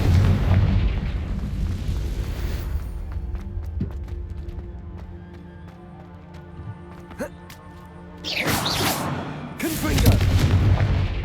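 Confringo spell explosions in the video game Hogwarts Legacy: a heavy rumbling blast fades into a quieter stretch with ringing tones, then two more loud booming bursts follow near the end.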